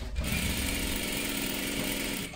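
A sewing machine runs a steady, close stitch along a salwar seam, its needle whirring without pause for about two seconds before stopping, with no voices present.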